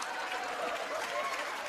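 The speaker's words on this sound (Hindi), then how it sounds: "इनके लिए भी जोरदार तालियां।" Studio audience on a comedy show breaks into brief, even applause, a quiet wash of many hands clapping together.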